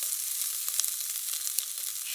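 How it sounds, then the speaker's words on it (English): Finely diced jalapeno and sliced shallots fry in hot oil in a wok-like sauté pan, a close, steady bright sizzle with small crackling pops. "I just want to fry those off really quickly"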